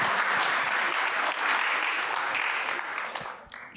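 A seated audience at a formal discussion on Armenia's constitution claps steadily, loud and sustained throughout, then thins out near the end.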